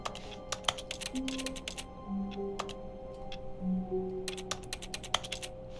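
Keyboard clacking in The Stanley Parable video game: bursts of crisp, close key clicks in quick runs and pauses over a quiet background hum and a few soft tonal game sounds.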